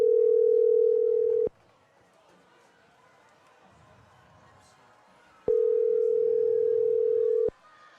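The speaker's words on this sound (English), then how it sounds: "The phone's ringing" A telephone rings during a high school football broadcast: two steady electronic ring bursts of about two seconds each, separated by a pause of roughly four seconds, clear and fairly loud over faint background murmur.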